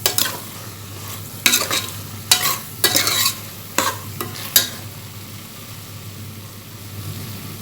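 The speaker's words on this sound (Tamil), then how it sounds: "புதினா, கொத்தமல்லி சேர்த்து கிளறி விட்டுக்கோங்க." Mutton kurma with mint and coriander is stirred in a pan over a low steady sizzle, with about six loud, close scraping bursts of a spoon against the pan, then a quieter simmer.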